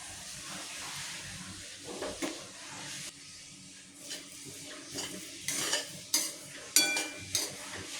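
Coarse semolina roasting in oil in a pan, heard as a quiet sizzle under repeated scraping stirs of a spoon against the pan that grow sharper and louder toward the end.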